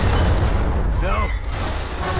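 A grenade explosion in the video game Gears of War, a heavy booming blast with a rumbling low-end tail filling the short moment, while gunfire continues underneath.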